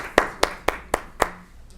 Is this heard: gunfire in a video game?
no